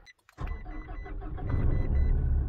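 After a short quiet pause, a car engine cranks and catches, then settles into a rising, steady running rumble close by.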